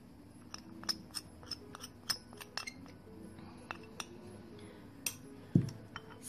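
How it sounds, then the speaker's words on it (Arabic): A spoon clinks and scrapes in a bowl as powdered milk and other face mask ingredients are stirred together, quiet, irregular taps and a soft scraping close by. "وغادي نحرك هاد المكونات كامله مزيان مع بعضياتها"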